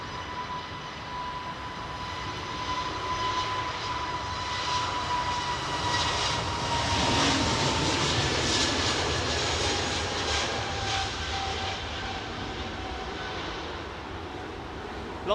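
Jet engines of aircraft at London Heathrow Airport roar steadily throughout, a loud continuous rumble that swells toward the middle and eases slightly at the end, with no talk.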